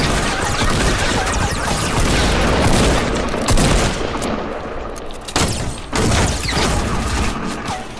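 Video game gunfire, a loud, dense barrage of shots and impacts that runs continuously for about eight seconds, with a couple of short gaps and sharp bangs near the end.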